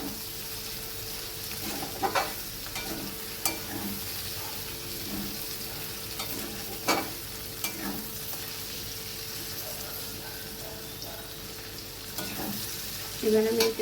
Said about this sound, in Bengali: ভেন্ডিটা প্রায় ভাজা হয়ে এসছে